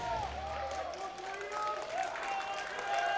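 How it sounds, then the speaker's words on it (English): A crowd at a Guilty Gear and Under Night In-Birth fighting game tournament roars and claps continuously in a large hall, a dense wash of cheering heard under a commentator talking. "Y'all can probably hear that crowd."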